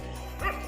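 A single short dog bark at a temple site in Jejuri, fairly faint and brief against a quiet background.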